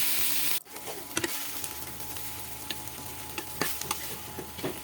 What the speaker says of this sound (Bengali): তারপর তেলের উপর দিয়ে মাছটাকে সুন্দর করে ভাজলাম